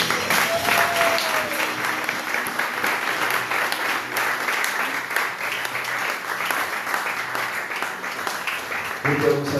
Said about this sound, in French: acclamons-le